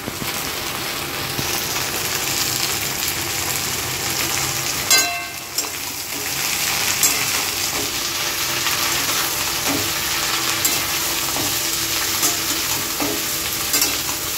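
Snake gourd seasoned with salt and turmeric is stirred in a hot frying pan, with steady sizzling and a soft scraping of the spoon that runs throughout with a brief pause.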